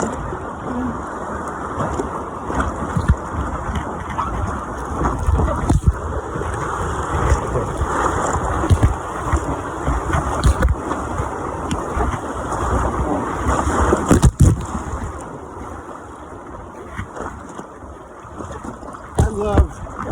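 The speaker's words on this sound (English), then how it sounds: "Riding over waves." A small boat rides over waves on open water, with constant rushing water and wind noise and irregular thumps and splashes as the hull strikes the swell.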